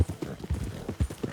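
Horse hooves clip-clop in a steady walking rhythm in Red Dead Redemption 2, the thuds loud and close with several beats spread across a brief stretch.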